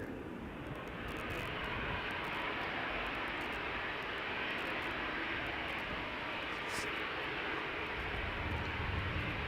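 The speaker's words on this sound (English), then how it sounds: "This is KLM flight 1219 going to Stockholm, 737-800" A KLM Boeing 737-800 jet roars loud and steady as it takes off from Schiphol's Polderbaan runway, a continuous broadband engine rush that holds throughout with no talk.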